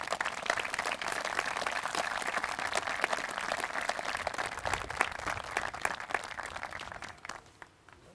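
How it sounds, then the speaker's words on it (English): Applause from an audience at an agricultural award ceremony held at a farm breakfast, sharp dense clapping from many hands that runs steadily, then thins and fades in the final second. "Let's show our gratitude and another round of applause for a life well lived"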